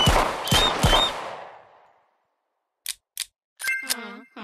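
Gunshots fired by pulling the trigger in the VR game Next Move VR: three sharp, loud bangs in quick succession with a decaying tail, then brief clicks and a short voice.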